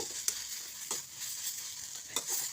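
Karpooravalli (Indian borage) leaves sauté quietly in a pan with a soft, steady sizzle, broken by a few sharp scrapes as they are stirred.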